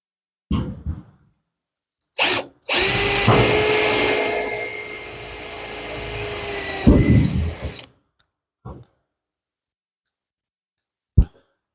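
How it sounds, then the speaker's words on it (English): A power drill whirs loudly for about five seconds, close by, framed by a few short clicks and bursts before and after in an otherwise quiet space. "Keep drilling holes."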